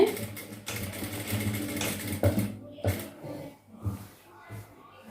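A sewing machine stitching a chudidhar in short runs with pauses between, a brief lock of two or three stitches, with faint talk nearby.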